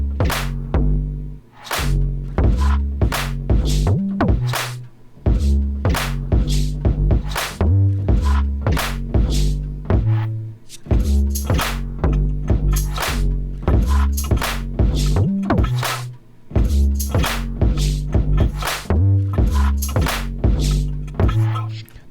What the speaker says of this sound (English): how to make some rubber band bouncy 808s that sound kind of like this